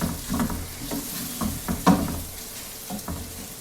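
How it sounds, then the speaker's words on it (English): Risotto rice toasting in hot oil with onions in a pan, a soft continuous sizzle broken by several scraping stirs of a spoon, close up with no talk. "I just added the risotto, and I'm going to cook this for a few minutes in the oil and the onions before I add"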